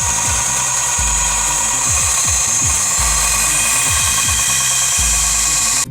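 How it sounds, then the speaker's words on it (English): Belt sander grinding steadily through a graphite tennis racket, a loud continuous high-pitched abrasive whine with a low rhythmic motor pulse underneath, running without pause throughout. "we are grinding away a racket on this belt sander"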